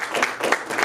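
Brief burst of audience applause at a philanthropy talk, a steady wash of clapping at moderate level with no voices over it.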